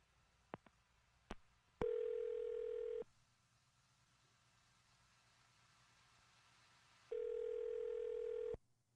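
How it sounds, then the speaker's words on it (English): A telephone call being placed: a few faint dialing clicks, then two long, loud ringback tones separated by a quiet pause, heard alone with no talking. "I'm going to dial his phone right now."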